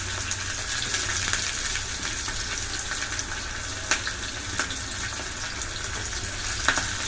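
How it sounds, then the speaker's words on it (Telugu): Soaked chana dal frying in a hot oil tempering for lemon pulihora, a continuous soft sizzle and crackle with occasional small pops and stirring, close to the pan and without speech. "తర్వాత మనం నానబెట్టి తీసుకున్నటువంటి శనగపప్పు ఇందులో పోపులో వేసుకోవాలి."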